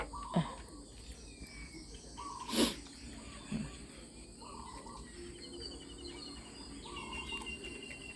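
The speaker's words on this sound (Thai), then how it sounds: "เสียงนกร้องกันเจียวจ้าว" Morning outdoor ambience with scattered bird calls and chirps, crickets or insects humming steadily underneath, and a couple of brief sharp knocks nearby.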